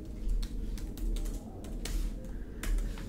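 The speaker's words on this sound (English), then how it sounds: "I'm going to type in my own text" Typing on a computer keyboard: a run of quick, uneven key clicks over a steady low hum, with a few louder taps scattered through, moderately close and with no talking.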